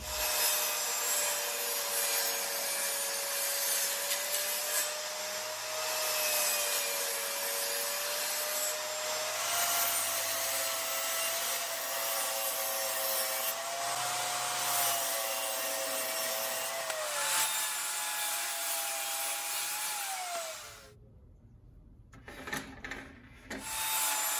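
A circular saw blade tilted to a fixed angle cutting wood for an elliptical piece, a loud sustained whine with a slightly wavering pitch that runs for about twenty seconds, then cuts off into quieter clatter.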